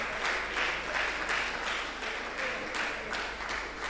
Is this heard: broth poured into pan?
no